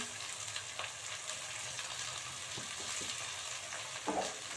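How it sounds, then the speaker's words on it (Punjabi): Fresh fenugreek leaves tossed onto fried onion in a pan, a steady crackling fry with soft stirring rustles and a brief louder burst near the end. "ਲਓ ਜੀ ਪਿਆਜ਼ ਭੁੱਜ ਗਿਆ ਚ ਮੈਂ ਪਾ ਦਿੰਨੀ ਆ ਸਾਰੀ ਮੇਥੀ"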